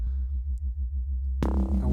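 Pure sub bass from Ableton Live 12 with no Roar distortion, a deep low pulse throbbing in a steady rhythm on its own, then a brighter full synth layer cutting in near the end.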